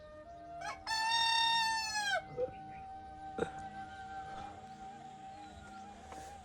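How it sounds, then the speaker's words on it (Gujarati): A rooster crows once, a loud, long drawn-out call at a rural Gujarati home in the early morning, followed by scattered clucks and faint household noise. "હવારમાં ઉઠીને મને કુકડો જ ઉઠાડે"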